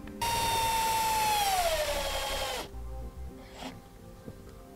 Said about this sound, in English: We'll need a Phillips bit screwdriver to run the screws in.